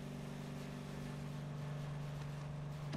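A 1200-horsepower Ford Mustang engine in the Need for Speed racing game drones steadily at a constant pitch, a low, buzzing, harmonic-rich hum that holds evenly with no talk over it.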